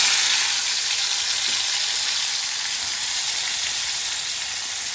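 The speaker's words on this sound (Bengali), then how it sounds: "এই কড়াটায় আমি মাছগুলো ভাজবো, সর্ষের তেল দিয়েছি।" Fish fries in mustard oil in a kadai, producing a loud, unbroken hissing sizzle that holds steady and close for the whole stretch, with no stirring strokes or voices.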